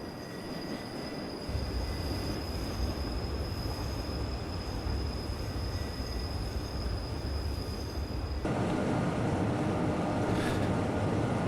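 An express train crosses a viaduct on the Albula Line in Train Simulator 2017, with a steady rolling rumble of wheels on rails that grows louder partway through and continues unbroken, with no talking.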